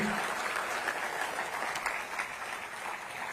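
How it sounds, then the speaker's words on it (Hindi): A large audience at a public speech event claps steadily, a dense, even wash of applause holding at the same level throughout. "बहुत तालियां बजनी चाहिए।"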